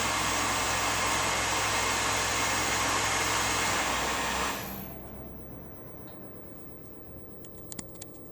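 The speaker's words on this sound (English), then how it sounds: "this is the finishing cut, so I'll just go for a few millimeters and then stop that" A Tormach RapidTurn lathe takes a light finishing cut on work held between centres, giving a steady, loud broadband whir that cuts off about halfway through, followed by quiet room tone and a few faint clicks.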